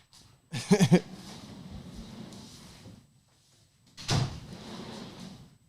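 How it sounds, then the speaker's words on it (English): An indoor door is shut with a single brief thud in a quiet room, with faint room noise before it and low muffled sound after. "Let me close this door real quick."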